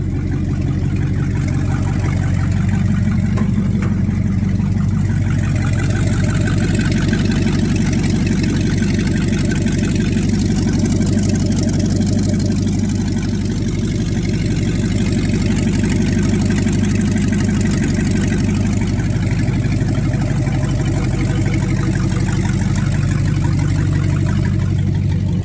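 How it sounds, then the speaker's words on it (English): A car engine idles continuously while warming up, a loud, steady low rumble with an even pulsing throb throughout and no talking. "Gotta let it warm up a little bit here. Get some temperature in that engine."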